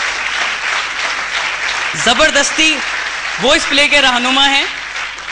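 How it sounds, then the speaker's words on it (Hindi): Audience applause at a theatre play's closing ceremony, a continuous wash of clapping from the crowd under someone speaking over a microphone. "उनके लिए बहुत ज़ोरदार तालियां होनी चाहिए"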